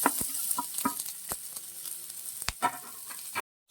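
Garlic, green chili, ginger and onion fry in a pan with a constant close sizzle, punctuated by sharp scraping clicks of stirring and ending in a sudden cut to silence.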